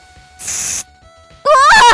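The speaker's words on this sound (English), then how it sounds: "They suddenly sprayed a white smoke at me." A sudden hiss of sprayed white smoke, a loud broad burst lasting about half a second, follows a quiet stretch and is followed by a shouting voice.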